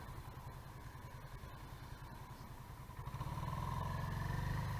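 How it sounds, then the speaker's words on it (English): A 1986 Honda VT500 Shadow motorcycle engine idles close by with a rough, uneven pulsing beat as its back cylinders cut in and out, then the revs rise and the note swells louder and steadier toward the end. "Back cylinders are cutting in and out, in and out, in and out."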